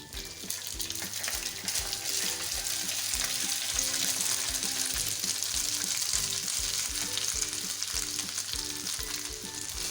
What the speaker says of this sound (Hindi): अब हम हाई फ्लेम पे राइस को फ्राई करेंगे।